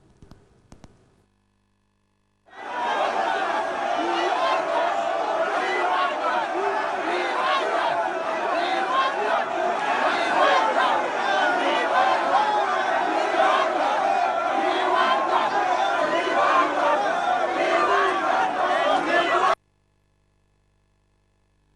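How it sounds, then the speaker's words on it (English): A milling crowd presses around President Mahama at parliament, a dense roar of many overlapping voices that starts abruptly, holds loud and steady, then cuts off. "So that is a milling crowd with the president in there."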